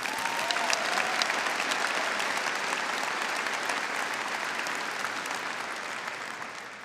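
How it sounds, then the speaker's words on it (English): Sustained audience applause at a university college commencement ceremony, a large crowd clapping steadily and densely for the full stretch, slowly tapering toward the end. "Let's give her one more round of applause"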